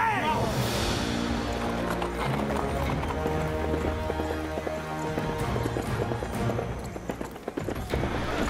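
Horse hooves clip-clop through a dense mix of music and scoring in a Wild West scene, the steady hoofbeats sitting under the soundtrack rather than standing alone.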